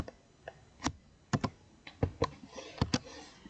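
Close computer keyboard typing during DNS server forwarding setup, a handful of separate crisp key clicks at an uneven pace, one of them the press of the enter key, with no talking.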